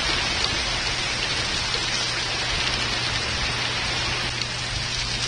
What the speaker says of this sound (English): You can see the sheets of rain coming down.